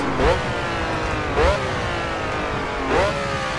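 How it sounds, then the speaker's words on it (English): Ferrari 512 TR engine revved with sharp throttle blips while braking, three distinct rising rev bursts spaced about 1.3 seconds apart over a steady engine drone, close and loud. "So we blip the throttle to get the engine RPM higher"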